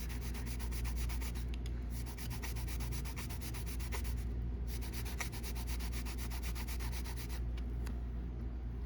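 Steady, continuous rasping of sandpaper rubbed back and forth over a small hard piece of a Jinhao 82 fountain pen, with a fast, even scrubbing rhythm and no talking.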